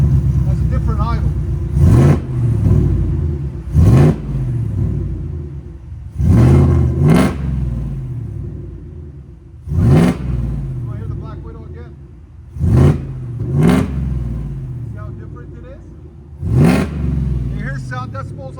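A supercharged 850-plus horsepower Ford F-150 with a 5.0L V8, headers and an NTR Pro Series muffler blips its throttle in loud, close revs, about seven sharp bursts over a steady, throaty idle.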